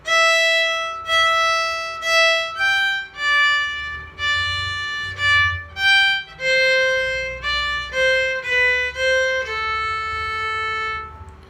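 A solo violin plays a lilting minuet melody, with clear separate bowed notes in a steady dance rhythm, close and fairly loud.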